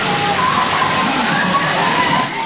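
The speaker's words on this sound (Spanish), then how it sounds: "La imagen del hombre arrastrado por la corriente y las alcantarillas colapsadas fueron parte de lo que dejó el aguacero" Floodwater rushing through a city street in central Quito after a heavy downpour, a steady loud wash of churning, sloshing water filling the whole clip.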